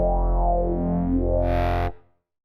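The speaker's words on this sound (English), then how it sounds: "Up will give me a distortion type effect" A synth bass drone with a buzzy, gritty distortion, brightening sharply near the end before cutting off abruptly, with a short fade.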